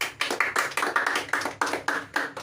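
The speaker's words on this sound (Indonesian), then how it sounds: "Berikan tepuk tangan dulu buat Nali." Classroom applause for a student, a short run of clapping from several people in quick rhythmic claps, close and clear, about a dozen sharp beats over a couple of seconds.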